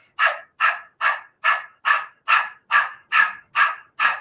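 A person imitates a dog panting with the tongue out, breathing rapidly in and out through the mouth, ten sharp, evenly spaced breathy huffs at a quick steady rhythm, close and clear with no talk over them.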